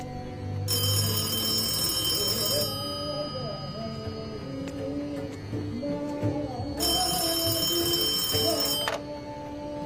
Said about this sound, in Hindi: अब इस फोन की घंटी तभी बजती है जब तुम्हारा फोन आता